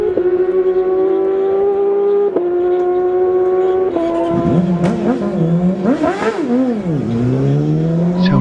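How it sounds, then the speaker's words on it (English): A 600 Yamaha motorcycle at a senior road race, its engine screaming at high revs with stepped pitch holes as gears change, then bouncing and warbling against the rev limiter as it passes close and loud. "Tony Wilson's rev limiter is really working. Rat-tat-tat-tat."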